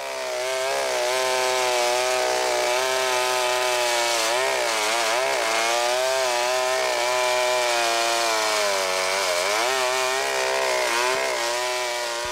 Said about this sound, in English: this man pulled the starter on a chainsaw, and this chainsaw started ripping the horn off his face